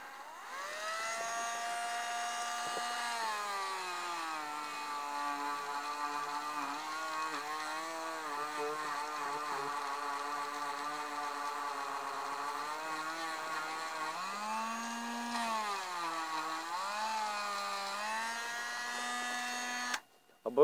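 A Dremel rotary tool spins at around 12,000 rpm while polishing with a polishing attachment and paste, giving a steady, close whine with shifting pitch that runs continuously for about twenty seconds.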